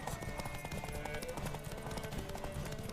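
Horse hooves clattering in a rapid galloping rhythm in The Witcher 3 video game, a continuous close drumming with faint voices murmuring underneath.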